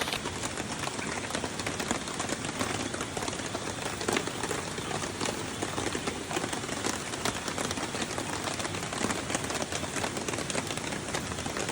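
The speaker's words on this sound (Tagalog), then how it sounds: "Grabe, ang ulan." Steady, heavy rain pours down continuously at night at a riverside campsite, a dense hiss of drops hitting surfaces close by, with no voices.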